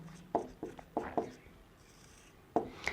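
A pen scratches across paper in short bursts of strokes with brief pauses between them, close and fairly quiet, with no talking over it.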